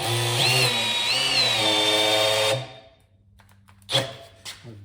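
A cordless drill spinning an engine's oil pump to prime a Vortec engine, running loud and steady with a high whine for about two and a half seconds before cutting out, followed by faint clicks and a short metallic knock.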